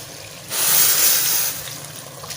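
Roughly two to three glasses of hot water are poured into chicken kofta gravy in a pan, a brief hissing, splashing pour of about one second at close range.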